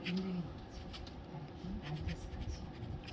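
An eraser brush rubs and sweeps over a pencil sketch on paper in a few short, soft scratchy strokes, faint and close, with quiet talk underneath.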